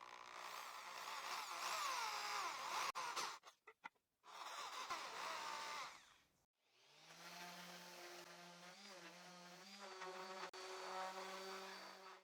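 A power drill with a 3.5 millimeter bit whirs steadily into pine wood, stopping briefly a few times before grinding through again, close and fairly loud.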